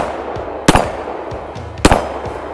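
Two sharp, loud gunshots from a Canik TP9 Elite Combat pistol crack about a second apart, each followed by a short echo over quiet outdoor range ambience.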